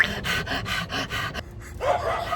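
A young child imitating a panting dog, giving a quick rhythmic series of about six breathy huffs, then a short pause and a higher whimpering vocal sound, close and fairly clear.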